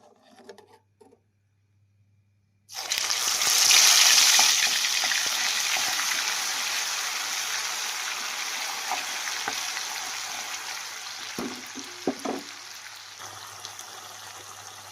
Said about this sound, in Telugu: ఇది కూడా ఆయిల్లో బాగా ఫ్రై అయితే చేసేసుకున్నామండి